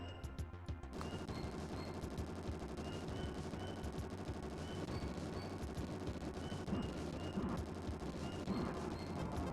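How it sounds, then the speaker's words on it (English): A spun-up gun in a retro video game firing continuously, a rapid steady stream of chiptune-like shots over a droning background, evenly loud for several seconds. "it seems like your gun has to spin up for a little bit because you have to hold it down for a little bit in order to get it to shoot"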